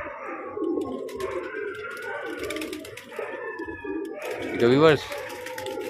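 A pigeon coos close by in a repeated throaty burst, loudest near the end, while someone talks over it throughout.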